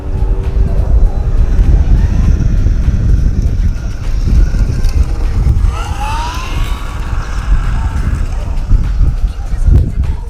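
An Infraction V2 RC car speeding along a street at partial throttle, a loud continuous motor whine and tire rush that rises in pitch as it passes, with a voice talking over it.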